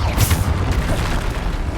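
Bombarda blasting spell in Hogwarts Legacy, a loud close boom with a rumbling low burst and crackling debris, fading over under two seconds.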